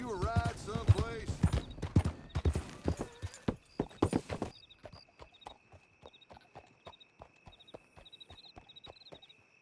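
Horse hooves clip-clop steadily in Red Dead Redemption 2, first under a burst of loud talk and a whinny, then alone as a regular, moderately close walking rhythm over a faint steady hum.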